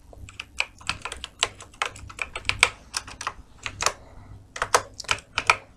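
Rapid, uneven clicking of keys on a computer keyboard as a Gmail password is typed, close and crisp, with short bursts separated by brief pauses.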